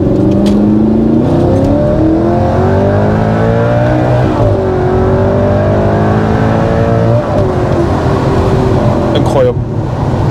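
Audi R8 with a V8 engine accelerating hard, a loud, close engine note climbing through rising gear sweeps with brief dips at shifts, steady and dominant throughout.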